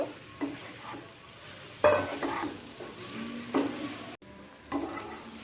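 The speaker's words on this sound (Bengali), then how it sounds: "ভেজে রাখা আলু আর সোয়াবিন আলু আর সোয়াবিনটা মশলার সাথে ভালো করে কষিয়ে নেব" Fried potato and soybean chunks are stirred into spices in a pan. A spoon scrapes and clanks against the metal every second or so over a constant sizzle, with no voices.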